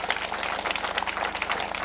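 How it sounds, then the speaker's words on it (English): Audience applause at the launch of the Chandaria Langata women's workshop, a dense, continuous patter of many hands clapping in a room, fairly loud and steady throughout with no voices on top. "Another round of applause for him"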